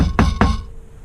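Two quick, sharp metallic taps on the corner of a Mercury MerCruiser 898 intake manifold, close together, fairly loud and near, followed by a short ringing decay.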